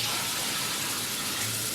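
Hot water running steadily from a household faucet, a continuous close hiss and splash with no speech.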